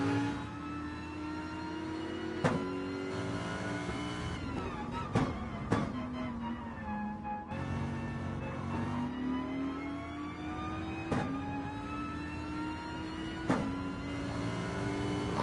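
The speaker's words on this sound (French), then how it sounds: "on n'entend plus le moteur, on entend seulement le bruit un peu de l'hybride" Hybrid system whine from a GT3/GT4 race car in a racing video game at Barcelona, with the engine audio missing, a steady whirring drone with rising and falling pitch sweeps and occasional sharp clicks, alone without talk.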